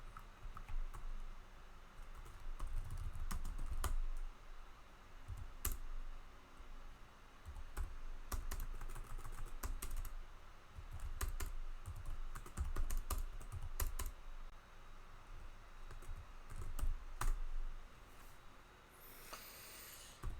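Someone types steadily on a computer keyboard, a close, continuous patter of key clicks that thickens and pauses in bursts over about twenty seconds, with no talking.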